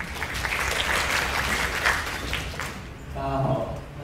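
Audience applause at a youth working-holiday information session in Tainan, broadband clapping filling the room for nearly three seconds before fading into a voice as the next speaker begins talking.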